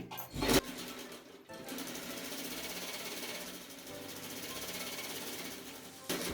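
A sewing machine runs in a long steady whirring burst while green thread stitches a blouse made from an old chunni, preceded by a brief loud thump and ending with another short knock.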